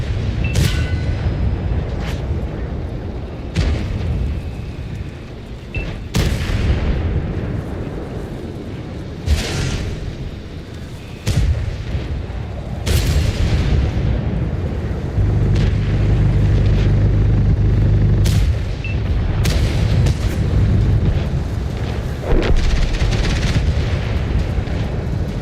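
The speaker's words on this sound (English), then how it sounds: "The auto cannon there from the 72 M2E." An auto cannon on the 72 M2E tank in the World of Tanks video game fires in repeated sharp booms at irregular intervals, loud and close, over a low rumbling battle background.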